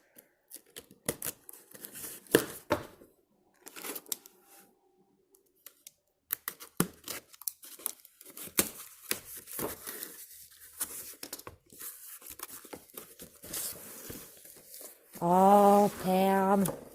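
Someone tears and cuts through a heavily taped mail package in bursts of crinkly ripping and snipping, close and fairly quiet, with pauses between, and a voice speaks briefly at the end.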